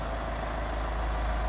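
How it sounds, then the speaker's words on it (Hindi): A car engine idles while the car stands parked on a hill in drive mode, a steady, low, droning hum that stays even and close throughout. "आपको आवाज़ आ रही होगी, गाड़ी इंजन ऑन है, गाड़ी बिल्कुल स्टार्ट है।"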